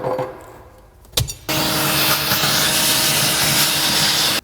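A power drill boring holes for battery rods in a car trunk, a short tap and then a loud, steady whine grinding continuously for about three seconds before stopping abruptly.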